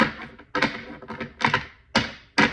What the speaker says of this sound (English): I just wanted to shake energy out and shuffle